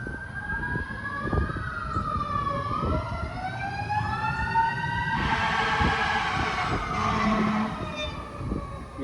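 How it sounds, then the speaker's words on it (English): A fire truck siren wails and sweeps up and down as it passes, loud and close, with engine rumble and traffic noise beneath it. "Yeah, that was a fire truck."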